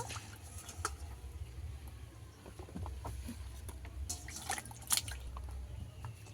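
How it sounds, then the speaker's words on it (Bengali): Eggplant is washed in water for a snakehead fish recipe. Quiet dripping, patter and soft splashes come in irregular spurts, close but faint, with no talking. "ধুয়ে ভালো করে ধুয়ে নেব, ধুয়ে তুলে নেব।"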